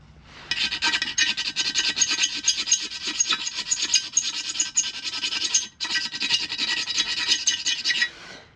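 Steady hand filing on a damaged Yamaha RD350LC engine part, a continuous close rasping of repeated strokes that runs nearly the whole time with one brief pause near the end.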